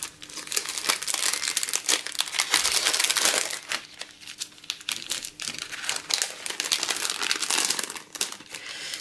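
Crinkly plastic packaging of die cuts is opened close to the microphone, with continuous loud crackling and crumpling that comes in bursts and brief pauses.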